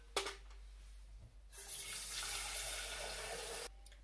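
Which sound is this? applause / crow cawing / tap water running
tap water running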